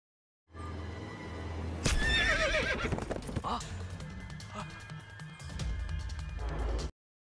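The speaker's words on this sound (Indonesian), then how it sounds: "Kuda itu berlari menjauh" A horse in a film lets out a loud whinny, then hooves clatter as it gallops away, the neigh sharp and close before fading into pounding steps amid film sound.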